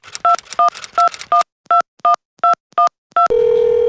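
A telephone dials out to an office in Bogotá, Colombia: a series of sharp, evenly spaced DTMF keypad tones, loud and clear, followed by a steady ringback or dial tone.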